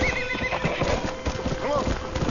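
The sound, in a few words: horse neighing and hooves, video game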